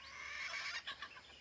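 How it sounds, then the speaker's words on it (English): Fowl calling outdoors in the countryside, with a soft steady hiss of open air, then a few short clucking notes near the end, fairly faint and without any talk. "we're out here where there's fresh air, sunshine, and you can hear the birds"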